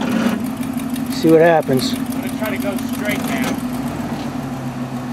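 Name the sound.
four-wheel-drive truck engine pulling out of mud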